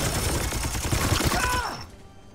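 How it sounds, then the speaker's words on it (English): Dense gunfire from a volley of shots in Warhammer 40k: Chaos Gate - Daemonhunters, loud rapid crackling bursts with a mechanical whine that cuts off abruptly near the end. "Opening fire!"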